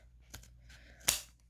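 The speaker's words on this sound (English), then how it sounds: "so let's just sharpen it with scissors, because why not? I just need to cut it diagonally" Scissors snipping cardboard on a diagonal while shaping a cardboard Batarang: two short, sharp crunching cuts, the second louder and crisper, close by with no talk.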